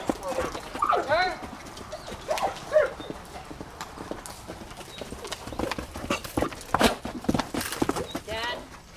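A horse canters in a riding arena, its hooves thudding in a quick uneven rhythm at moderate distance, with a person talking over it and birds cooing faintly nearby.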